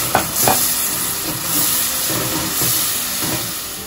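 Mung and red lentil dal being stirred in a hot pan with ginger and garlic while cooking thin khichuri, a steady sizzle and hiss with a few scraping stirs near the start.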